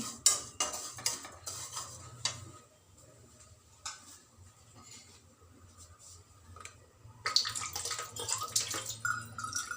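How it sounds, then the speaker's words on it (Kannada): A spoon scrapes and stirs roasted vermicelli in ghee in a pan for a semolina payasa, with close clinks and scraping in bursts and a low sizzle and stove hum underneath. "ಹುರಿದಿರೋ ಶಾವಿಗೆ ಒಂದ್ಸಲಿ ಸುಮ್ಮನೆ ತುಪ್ಪದಲ್ಲಿ ಒಂದ್ಸಲಿ ರೋಸ್ಟ್ ಮಾಡಿದರೆ ಒಳ್ಳೆ ಸ್ಮೆಲ್ ಬರುತ್ತಲ್ಲ, ಮಾಡ್ತಾ ಇದ್ದೀನಿ"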